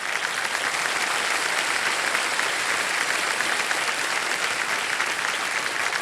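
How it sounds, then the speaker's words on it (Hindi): Studio audience applause for a contestant on KBC Season 17, dense, even clapping that holds steady and loud from start to finish with no talk over it. "ताली बजती रहे इनके लिए।"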